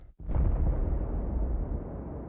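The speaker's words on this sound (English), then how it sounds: "this grenade here makes this impact noise." A CS:GO video game grenade explosion impact sample: one sudden, heavy boom with a deep rumbling tail that fades slowly over about two seconds, loud and alone.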